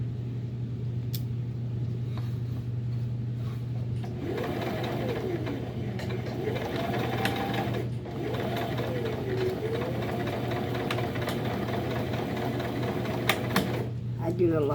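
A sewing machine back stitches the curved seams of a fabric Christmas tree, starting after a few seconds with a steady close mechanical whir and short repeated bursts, over a constant low hum and with talk at times.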